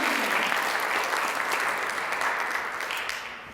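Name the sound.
audience applause for pageant judges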